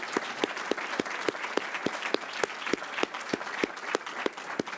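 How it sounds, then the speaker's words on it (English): Audience applause at a university event, a steady patter of many hands with sharp individual claps standing out, moderately loud and continuous with no talk over it. "we all deserve to give him a great round of applause"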